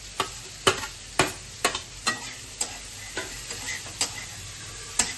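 Cauliflower and potato tossed into cooked onion and spice mix for a fish curry, sizzling under a run of about a dozen sharp, rhythmic spatula knocks against the pan, no voices.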